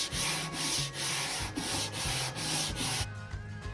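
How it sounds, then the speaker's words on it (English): A wooden nightstand sanded by hand with a flat, a steady rhythmic back-and-forth scraping at close range with even strokes about twice a second, then a brief pause. "So I'm just using this flat, sanding it by hand"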